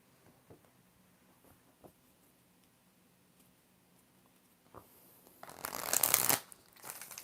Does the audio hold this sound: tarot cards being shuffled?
yes